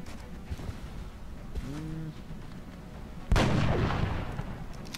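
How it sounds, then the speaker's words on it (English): A grenade goes off in the XCOM Long War strategy game, a sudden loud blast followed by a rumbling decay, after a few seconds of low ambient game noise and a brief chirp. "Not the finest grenade in the world."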